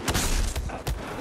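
Gunfire in Battlefield 1 during a fast gun game match: three quick muffled shots spaced evenly across a moment, heard fairly faint against a busy background.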